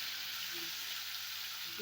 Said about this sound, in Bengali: চিংড়ি মাছ ভাজার জন্য তেল দিয়ে দিয়েছি